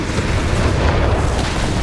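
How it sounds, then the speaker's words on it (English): Heavy enemy fire and explosions in Company of Heroes 3, a loud dense wash of booming blasts and gunfire with no pause. "Taking heavy enemy fire!"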